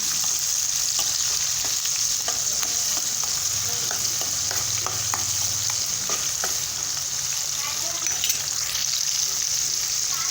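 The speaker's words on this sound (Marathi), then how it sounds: "कांदा थोडा भाजून घेऊ हे पहा कांदा फ्राय झालेला आहे" Onion frying in a pan gives a loud continuous sizzle close up, with scraping stir sounds now and then and no voices.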